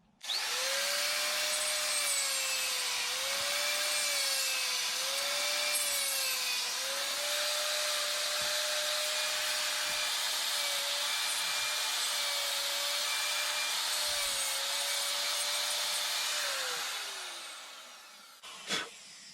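A rotary carving tool grinds continuously into wood, pointing the claws on a carved wooden bear, with a steady high whine that dips slightly in pitch under load and then winds down near the end.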